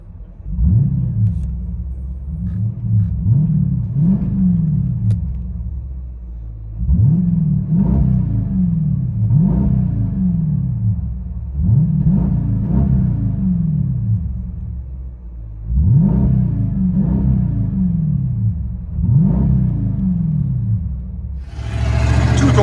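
A 2023 Dodge Durango 345 with a 5.7L HEMI V8 and Netami turbo mufflers, heard from inside the cabin: a deep, loud exhaust rumble swelling in repeated rev bursts, with no talking.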